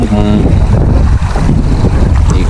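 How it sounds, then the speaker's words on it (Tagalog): Strong wind buffets the microphone at a seaside fishing spot, a loud continuous rumble for a few seconds with a voice briefly audible underneath. "ang lakas ng hangin dito, no?"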